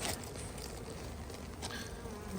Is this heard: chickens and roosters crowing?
no